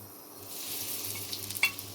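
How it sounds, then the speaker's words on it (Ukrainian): Sliced carrot fries in a pan of hot oil with a soft, continuous sizzle. A few light stirring clicks come near the end. "підсмажимо Морку."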